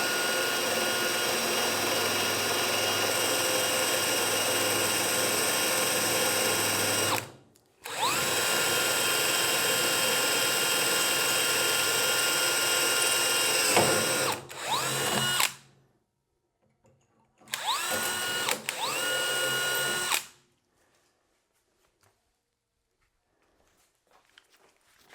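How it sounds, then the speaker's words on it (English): A power drill drilling through aluminum runs loud and steady, then stops, starts again with a whine, and ends in two shorter bursts separated by silence. "make sure that you've got your drill at the sort of right angle to where you want to come out"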